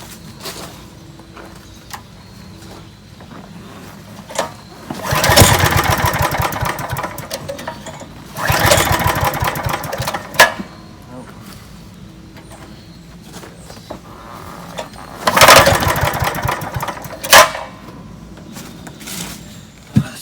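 Parker-35 vacuum with a small gas engine, choke fully on, being pull-started in repeated attempts: several loud bursts of mechanical rattling and sputtering, each lasting a second or two, separated by quieter pauses, with no sustained running.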